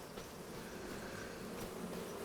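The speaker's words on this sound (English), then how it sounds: "They're bees." Bees buzz in the Farming Simulator 25 video game, a steady soft drone of insect wings with no speech.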